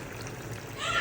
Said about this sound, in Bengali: আরও একটু পানি দেব